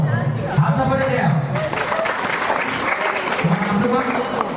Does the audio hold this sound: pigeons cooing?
no